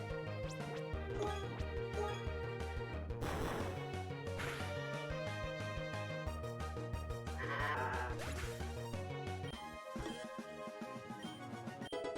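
Goats bleat a few times in Pokémon Uranium over continuous, steady background music, the calls rising briefly above the melody before fading.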